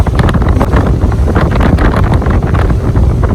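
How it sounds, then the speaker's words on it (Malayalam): A boat slamming and bouncing over sea waves near Dubai, with heavy wind buffeting the microphone, water rushing and repeated thumps as the hull hits the swell, loud and close throughout. "ബോട്ട് ചാടുന്നു."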